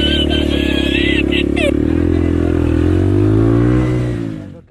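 A motorcycle engine revving hard on a street during a roadside confrontation, a loud sustained roar that shifts pitch as the throttle is worked, then fading abruptly at the end.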